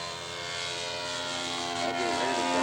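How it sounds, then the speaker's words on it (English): Radio-controlled scale model airplane at an aircraft show making a touch-and-go, its small engine buzzing steadily with a high whine that rises as the plane passes close, loud and continuous. "Okay, Weldon's going to do another touch and go."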